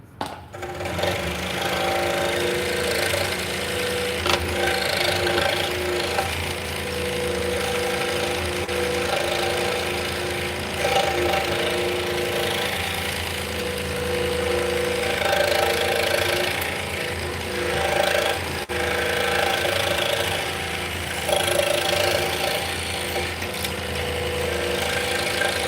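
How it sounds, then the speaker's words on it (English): A scroll saw running steadily while making internal cuts in a workshop, a continuous loud buzzing hum with little variation throughout and no talk. "the nice thing about scroll saws is you can make internal cuts"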